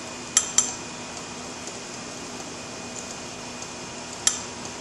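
A spoon stirring mayonnaise in a bowl, soft quiet scraping with a few sharp clinks of utensil against the bowl near the start and again near the end.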